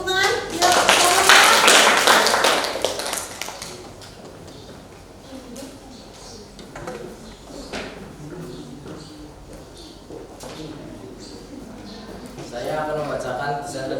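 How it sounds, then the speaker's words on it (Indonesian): An audience in a school classroom gives a short burst of clapping, loud for a few seconds, before it fades out and someone starts speaking. "Yuk, beri tepuk tangan"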